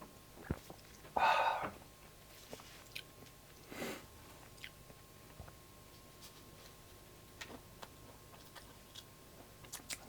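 Close, soft chewing of a whole fruit tart, with scattered crunchy bites and small mouth clicks against a quiet room, no talking.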